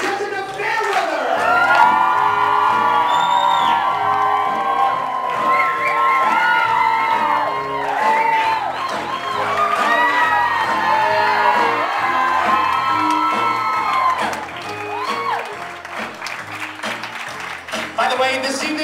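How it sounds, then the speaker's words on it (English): Applause, cheering and whoops from a party crowd at a quinceañera, honoring the parents, sustained and loud for most of the stretch before thinning near the end. "I'm going to give a round of applause for Larissa's parents, Randy and Jessica Fairweather."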